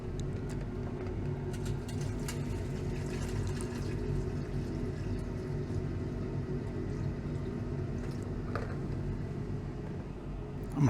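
Distilled water, about 1.2 liters, pours steadily into a beaker holding silver, a soft continuous liquid rush with low background hum, faint and close, and a small knock at the end.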